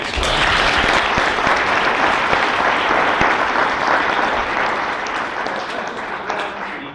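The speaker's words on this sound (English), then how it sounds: "Let's give him a round of applause." Audience applause after a talk, a dense, steady wash of many hands clapping at once that holds strong and then tapers off near the end.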